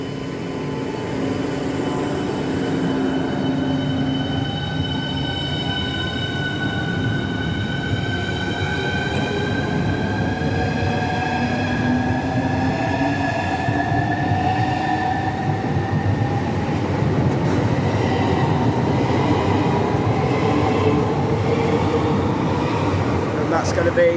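A train pulls out of Stratford International bound for Ramsgate, its rising motor whine and layered tones climbing steadily in pitch as it accelerates over a continuous rumble of wheels, loud and close throughout, with occasional brief talk nearby.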